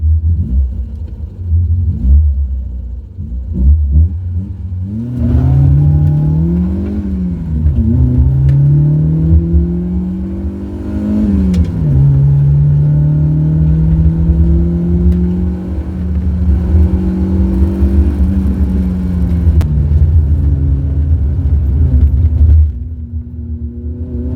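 A Fiat Cinquecento Trofeo race car is driven hard on a sprint course. The engine is loud and close, revving up through the gears in repeated rising sweeps, dropping briefly at each shift before climbing again, then easing off near the end.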